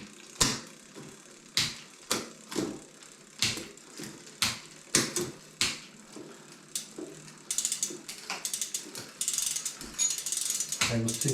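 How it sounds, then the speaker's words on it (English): A ratchet clicks in rhythmic bursts while slackening the B screw on a mountain bike rear derailleur during a frame build, then breaks into a faster run of mechanical ticking near the end. "we're just going to slacken off the B screw"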